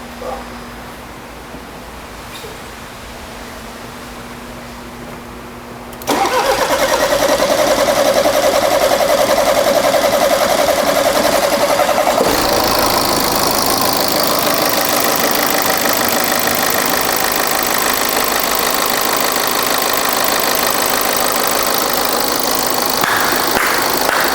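A BMW 520d diesel, stalled in a heavy rainstorm, cranks and starts at a repair shop, then settles into a loud, steady idle that runs unbroken to the end.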